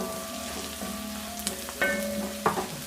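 Chopped shallots and curry leaves sizzle and fry steadily in a hot pan for mutton boti curry, with a few sharper clinks of stirring near the end and no voices.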